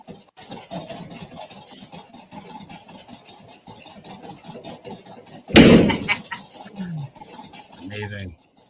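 Drawers slamming shut: a loud sudden bang cuts through a low mechanical hum and faint background voices, followed by a few lighter knocks and clatters.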